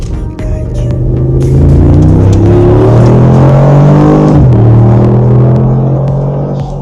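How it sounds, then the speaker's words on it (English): A Mercedes G63 AMG accelerates hard, its engine roaring loudly and climbing through the revs. There is a quick shift partway through, and the engine keeps pulling strongly afterward. "when you put your foot down, the whole car squats. It's very fast."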